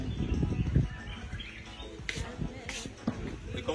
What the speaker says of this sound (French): ici, on n'a que les bruits des oiseaux